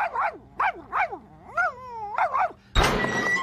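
A cartoon dog barks several times in quick rhythmic yaps, then gives a drawn-out whine, ending with a sudden loud thunk and hiss.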